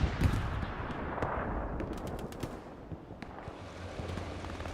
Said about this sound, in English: Bombing run coming over the front line.